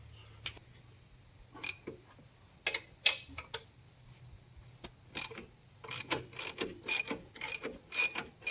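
A hand wrench ratchets in short clicking bursts while loosening bolts on a Polaris 250 Trailblazer quad, quiet and close, with pauses between runs of clicks and no talk.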